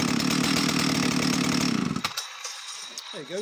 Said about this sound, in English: There you go, so straight up to peak revs,